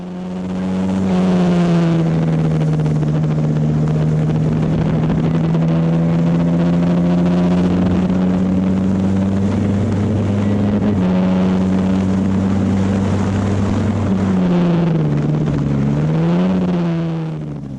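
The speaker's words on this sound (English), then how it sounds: "This is really good fun, classic Formula Ford racing." Classic Formula Ford race cars howl past at Snetterton circuit, a loud sustained engine note holding steady pitch for long stretches, then dipping and rising again near the end as the cars shift and brake, with no talking.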